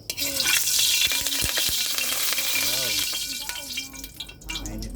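Hot frying pan sizzling with a steady hiss under a voice speaking close by, with a few clinks and knocks of utensils against the pan.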